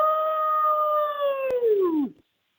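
A person imitates a long wolf-like howl, a sustained clear tone held for about two seconds before sliding down and cutting off, close and loud with nothing else around it.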